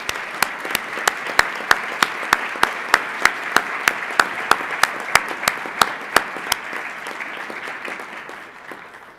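Audience applause honoring an ambassador at a lecture on Christianity and human rights, steady massed clapping with a regular sharp rhythmic clap standing out above it, slowly tapering toward the end.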